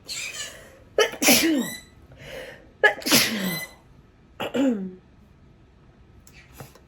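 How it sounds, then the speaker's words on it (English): Three sharp sneezes a couple of seconds apart, close and fairly loud, with a soft breathy sound between them. "Yes, he sneezes with me."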